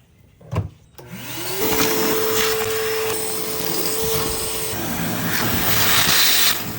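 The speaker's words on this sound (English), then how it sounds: "I don't remember the last time I've actually emptied the shop vac" Shop vac switching on after a thump, its motor spinning up to a loud steady whine and roar that continues close by, with faint rubbing and scraping of the hose underneath.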